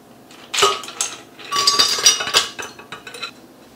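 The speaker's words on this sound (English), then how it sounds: "We're going to put them in the blender and crush them." Around ten ice cubes drop into a blender jar for crushing in a homemade orangeade recipe, giving a close run of hard clinks and clatters in two bursts with no talk over it.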